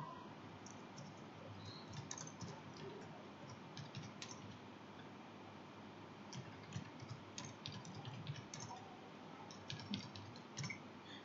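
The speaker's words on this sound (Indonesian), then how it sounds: "Boleh, kita ketik lagi ya." Steady typing on a computer keyboard while entering text into Microsoft Word, a soft continuous patter of key clicks held at an even, fairly quiet level throughout, with no talking.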